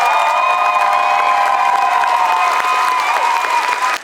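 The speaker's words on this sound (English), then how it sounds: "A giant round of applause for these wonderful volunteers." A large convention crowd applauds and cheers loudly and steadily for the volunteers, with whoops and shouts rising over the dense clapping throughout.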